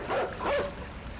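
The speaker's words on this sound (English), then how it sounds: "There's a fucking dog after you, bro!" A dog in the video game Inside barks and yips while chasing the player, two loud close bursts of sharp barking over a steady game background.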